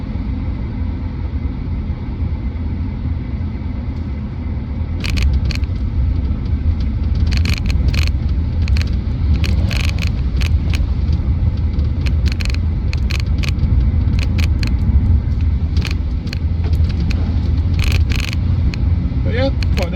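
A BMW Z4 E89 sDrive 2.3i with a six-speed manual gearbox drives along a road, its engine a steady low rumble with road noise. Light rattles and clicks sound intermittently over it, and a person talks over the drive.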